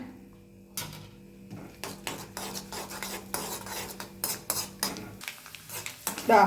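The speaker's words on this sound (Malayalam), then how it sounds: "ആദ്യം തന്നെ നമ്മൾ കുറച്ച് തേങ്ങാക്കൊത്ത് വറുത്ത് പോരുവാണേ" Coconut pieces roast in hot ghee in a pan while a metal spoon stirs them, giving a run of close scraping clinks and clatters over a faint sizzle, with no voices.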